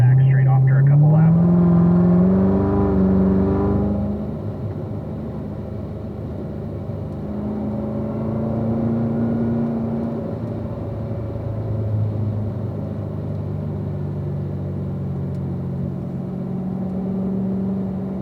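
Race cars at Spring Mountain track produce a steady engine rumble and drone, starting with a rising rev and gear change then holding a fairly constant hum, while an instructor talks over it throughout.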